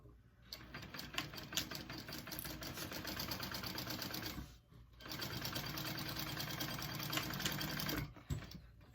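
A sewing machine stitches a handbag seam at 3/8 inch allowance, running in steady rapid bursts with a brief pause midway and a short stop near the end, close and clear with no talk.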